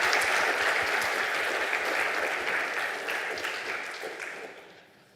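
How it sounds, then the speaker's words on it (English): A conference audience applauds in a long, steady round of clapping that fills the room, then tapers off and fades toward the end. "Then it's a huge round of applause for all of them."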